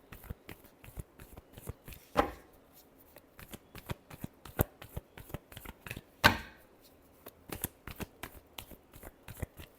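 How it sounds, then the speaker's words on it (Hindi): Tarot cards are shuffled by hand in quick, close, riffling taps, with two louder riffle bursts standing out from the steady light card clicks; the room is otherwise quiet with no talking. "लास्ट शफल देखते हैं"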